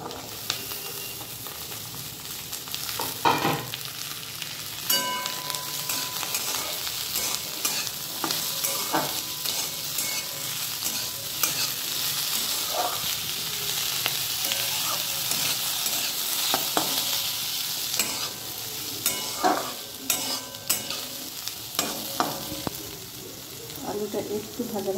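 Small diced potatoes fry in a pan with a steady, close sizzle and crackle, broken by occasional scrapes and knocks of stirring throughout.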